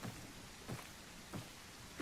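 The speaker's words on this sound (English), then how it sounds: "I like that it's raining, by the way." Rain falls steadily in the Auto-Crisis video game as an even, faint hiss, broken about every 0.7 seconds by soft thumping bursts.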